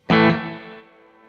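A single struck guitar chord through a TC Electronic Hall Of Fame reverb pedal set to a very short decay, bright and loud at the attack, fading quickly into a brief tail within about a second.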